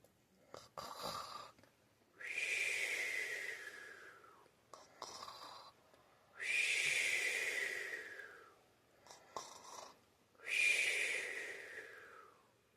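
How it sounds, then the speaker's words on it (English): Slow, heavy snoring of a giant in a children's story repeats in long rasping breaths with quieter gaps between, close and steady, with short noisy bits in the pauses. "he continued to snore."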